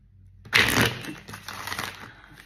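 A tarot card deck being shuffled: a sharp burst of riffling cards, then a softer crackling patter of cards that fades over the next couple of seconds, heard close up with no talking.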